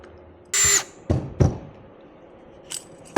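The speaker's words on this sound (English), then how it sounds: "We're just going to drill that out" A power drill gives a short, sharp burst while drilling out a rivet on a boat navigation light, followed by a few clunks and taps and a faint final whir.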